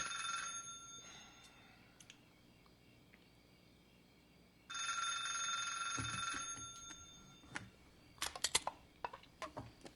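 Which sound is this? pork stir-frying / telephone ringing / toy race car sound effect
telephone ringing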